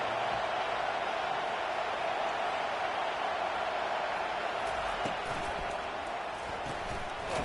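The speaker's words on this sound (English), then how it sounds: "Listen to the crowd energy here in the early going." A stadium crowd in College Football 25 roars as a broad, steady wash of distant cheering that runs the whole time with a few faint thumps and no clear voices.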